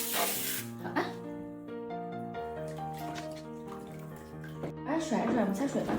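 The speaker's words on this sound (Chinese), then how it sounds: "怎么冲个小狗脖子？" Shower water sprays over a small dog's neck during a bath, with splashy hissing bursts at the start and near the end, under steady background music and a talking voice.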